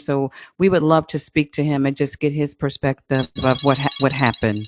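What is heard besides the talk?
telephone ringing in the background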